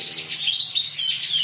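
Branjangan bushlarks at a bird farm chirp in a steady, close stream of high, bright tweets, with no talk over them.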